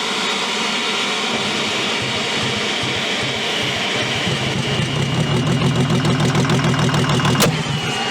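An old GMC engine is fed ether and fires up, going from rough cranking into a loud, close, rhythmic running chug that grows stronger before a sharp crack near the end.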